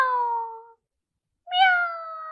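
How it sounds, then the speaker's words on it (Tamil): A cat meows twice, separated by a short silence, each call clear, close and loud with a falling pitch. "இந்த பூனை எவ்வாறு ஒலி எழுப்பியது? மியாவ்"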